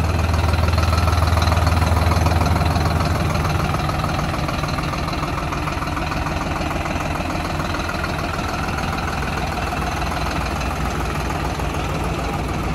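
A SAME Dorado 65 tractor diesel engine idles steadily nearby, a loud, even mechanical rumble with a slight knocking throb, louder for the first couple of seconds and then continuous.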